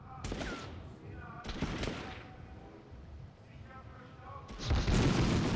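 Gunfire in the Medal of Honor video game: bursts of rapid shots in three loud clusters separated by quieter gaps with faint background noise.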